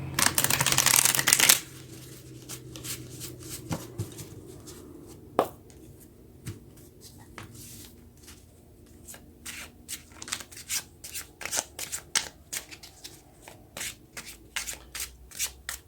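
Tarot cards shuffle in a burst of rapid riffling, then a long run of soft, irregular slaps and flicks as the cards are handled, close and quiet.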